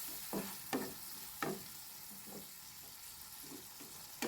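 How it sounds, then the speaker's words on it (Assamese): Fried potatoes with sesame paste are stirred in a pan, giving soft scraping strokes every second or so over a faint, steady sizzle, quiet and close with no voices. "এনেকৈ ভাজি থাকিব আলুৰ সৈতে"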